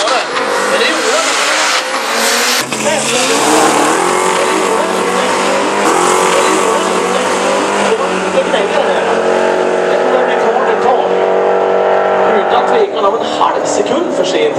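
A car at a drag racing event in Helsinge, 2011, roaring loud and close as it launches and accelerates down the strip, the engine note sustained and climbing, with a commentator speaking over it.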